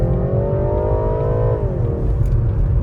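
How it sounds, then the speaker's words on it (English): A BMW 330e hybrid engine strains hard under acceleration, its rising whine climbing in pitch and then dropping at a shift, heard from inside the car over a steady low road rumble. "the engine sounds like it's screaming"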